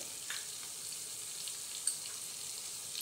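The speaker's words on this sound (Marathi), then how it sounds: "तर परत आपल्याला हे अजून एक वेळ चांगलं असं परतून घ्यायचं आहे" Kashmiri red chilli powder, sambar masala and turmeric fry in hot oil in a pan for sambar, giving a soft, steady sizzle with one brief clink of a utensil.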